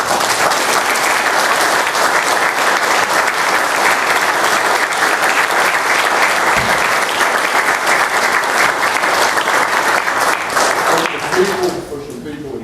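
Sustained loud applause fills a county commission meeting room, a dense, even clapping from a crowd that holds for about eleven seconds before tapering off.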